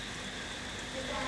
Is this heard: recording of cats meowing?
no